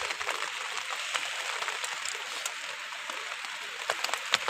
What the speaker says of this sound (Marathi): जोरात पाऊस आला आहे जोरात पाऊस आलाय